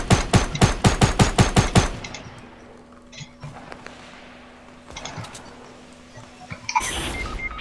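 Gunfire in a Fortnite match, including a shotgun: a rapid burst of about eight loud, evenly spaced shots, then sparse quieter distant pops and clatter before a final burst near the end.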